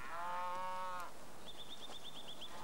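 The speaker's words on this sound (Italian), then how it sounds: "è abituata alla presenza delle mucche che vengono portate al pascolo." Cows mooing near a farm on Hokkaido in a cold rural setting: one long harmonic moo followed by a faint rhythmic high chirping, with no voices.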